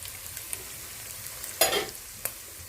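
Pilau rice stirred in a pot with pilau masala spices and salt, a faint low sizzle broken by one brief burst of scraping and a couple of sharp utensil taps.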